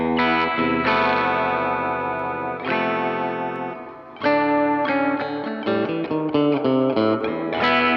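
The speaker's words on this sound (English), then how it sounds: "delay, washy reverb type thing" Distorted electric guitar chords ring out through a washy delay and reverb, with notes smearing into each other and trailing echoes, played alone.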